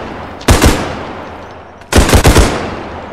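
Uzi fire in a bodycam-style zombies video game: two loud, close bursts of rapid automatic shots, a short one followed by a longer one after a brief pause.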